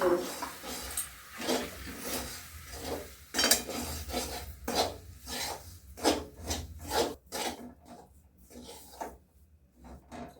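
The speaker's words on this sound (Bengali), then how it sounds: "গ্যাস একদম কমিয়ে নাড়াতে নাড়তে।" Ground dalia mixed with nuts and raisins stirred in a pan over very low gas, repeated rasping scrapes of a spoon against the pan bottom in an uneven rhythm, close up, fading to sparser strokes near the end.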